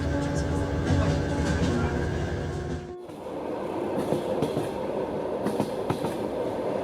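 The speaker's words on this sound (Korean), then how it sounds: "날이 밝아도 여전히 철길을 달리고 있는 열차." A Trans-Siberian passenger train runs along the rails, a steady close rumble of wheels and carriage noise that dips sharply for an instant partway through, then continues with faint rhythmic clacks and squeaks.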